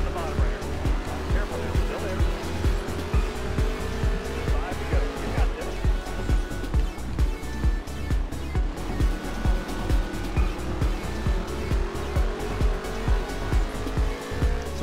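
Race car engines and tires in the NASCAR Heat 3 video game, a loud continuous engine drone with pulsing rhythm and rising pitch sweeps, steady throughout.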